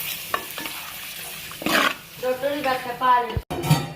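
Turmeric and chili powder are stirred into a pan for a kilimeen (threadfin bream) coconut milk curry, with soft scraping and sizzling. Brief muffled vocal-like sounds rise briefly near the end.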